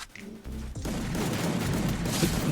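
Rapid automatic gunfire from the Free Fire battle royale game roars in a loud, dense, unbroken burst after a brief quieter opening, filling the rest of the moment with no pause between shots.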